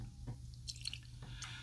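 Jack Daniel's Single Barrel Rye whiskey poured from the bottle into a glass, a soft, faint trickle with a few light drips and splashes, close and quiet, no talking.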